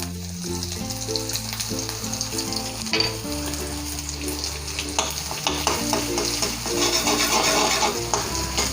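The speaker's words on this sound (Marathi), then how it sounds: "आपण साधारण एक मोठा चमचा तेल घालून घेणार आहोत आणि अर्धा चमचा जिरे यामध्ये जे लसूण पेस्ट घेतलेली आहे ही घालणार आहोत" Garlic paste and cumin seeds frying in hot oil for hurda upma, a loud, close sizzle with busy spatula stirring and scraping, plus a low steady hum beneath, no voices.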